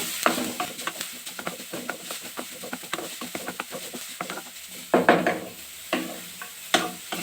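Carrots cook with onion in a pan for pizza McPuff filling, mild sizzling beneath frequent irregular spatula clicks and scrapes, a few louder knocks, close up and unaccompanied by talk.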